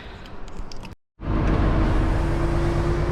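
A truck rumbles along as it moves to a neighbouring loading ramp at a warehouse in Sweden. After a brief cut, a steady low engine drone and road noise continue loud and close.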